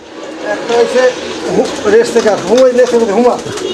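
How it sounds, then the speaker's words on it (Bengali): Pigeons at a pigeon farm coo in soft, repeated throaty bursts close by, mixed with a voice talking over them. "এখানে আরো একজোড়া কবুতর আছে"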